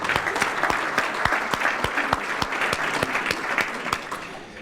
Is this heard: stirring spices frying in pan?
no